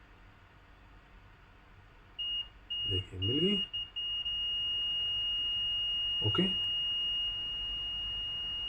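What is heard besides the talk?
multimeter continuity buzzer beeping while testing Dell power supply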